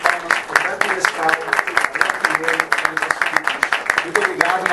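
A Brazilian music panel audience breaks into sustained, dense applause, many hands clapping steadily throughout with a lively, full-room sound.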